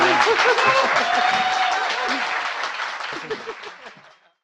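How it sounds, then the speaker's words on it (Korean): A lecture audience in Korea applauds at the close of a political talk, sustained clapping with a few voices and chuckles, fading away at the end. "박수 부탁드립니다."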